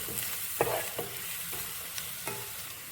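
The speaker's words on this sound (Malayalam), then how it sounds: "വെളുത്തുള്ളി നമുക്ക് ബട്ടറിട്ട് ചെറിയ ബ്രൗൺ ആവുന്ന വരെ ഒന്ന് ഫ്രൈ ചെയ്തെടുക്കാം" Garlic fries in butter until lightly browned, with a soft steady sizzle and a few stirring scrapes and clicks in the pan.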